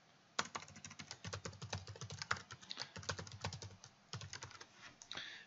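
Rapid, irregular keystrokes on a computer keyboard as a password is entered, close and clear with short pauses between bursts of clicks.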